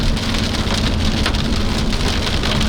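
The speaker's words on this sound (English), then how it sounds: "Yeah, here comes the hail." Hail and heavy rain pound steadily on a car during a violent tornado-producing storm in Nebraska, a dense, loud, continuous drumming on the vehicle with no voices.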